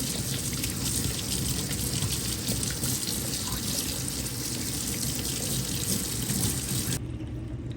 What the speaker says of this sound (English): you wash this pad with some water